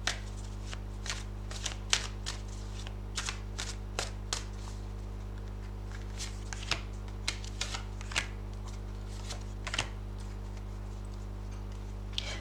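Tarot cards being shuffled and handled, a string of light, crisp riffling bursts and flicks repeating at irregular intervals over a steady low electrical hum, with no talking.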